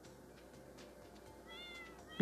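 A cat in the farming video game Stardew Valley gives a soft meow, faint and brief beneath quiet game background sound.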